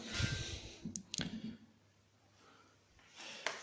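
Latch hook of a CPU cooler mount clicking onto an old motherboard, a few sharp, close plastic clicks spaced apart, with soft handling noise between them and no talk.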